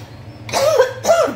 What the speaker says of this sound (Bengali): বুঝতে পারছি না কাশিটা আমার কেন ছাড়ছে না।